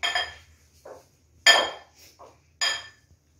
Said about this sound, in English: As you can see that I have boiled potatoes, so now I will mash them.